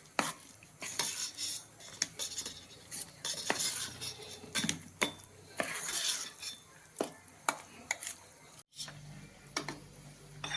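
A spoon clinks and scrapes against a bowl in uneven bursts as cabbage fritter batter is mixed with a little water, producing quiet, close taps and stirring sounds with short pauses between.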